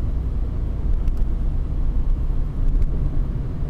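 A Peugeot 208 pulls harder while driving, a loud, close, steady low rumble of engine and road noise inside the cabin, rising slightly in intensity with no talking.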